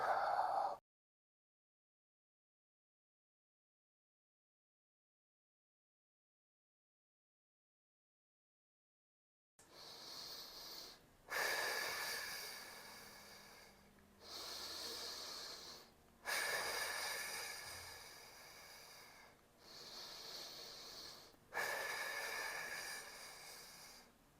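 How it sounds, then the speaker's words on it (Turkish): Deep breaths are drawn in through the nose and let out fully, about six slow, audible cycles of breathing close to the ear, each a soft airy rush after a long stretch of silence. "Burnumdan derin bir nefes aldım. Tüm nefesimi bıraktım."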